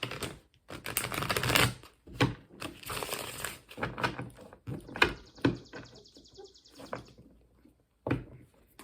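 Close, irregular flurries of tarot cards being shuffled, papery riffles and taps with short pauses, while a faint bird chirps in the background.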